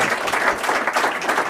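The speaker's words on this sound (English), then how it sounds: "That deserves an applause, by the way." A studio audience applauds during an interview, a steady dense wash of clapping that holds at even loudness throughout the short moment.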